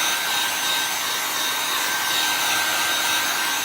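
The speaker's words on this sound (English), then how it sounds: "I'm using my heavy-duty dryer because my other dryer is somewhere else." A heavy-duty hand-held dryer blows a loud, steady hiss-like whoosh at close range while it dries chalk paste on a hexagon-shaped craft surface, running unbroken with no speech.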